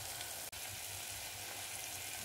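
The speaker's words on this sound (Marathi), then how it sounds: "चटणी तळायला टाकलेली आहे" Chili powder chutney fries in hot tempering oil for dal, giving a steady, close, even sizzle that fills the moment, broken only by one very brief dropout.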